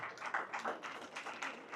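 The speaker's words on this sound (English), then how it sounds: "Give them a big round of applause." Faint, muffled applause from an audience for reggae legends, soft continuous clapping heard from a distance.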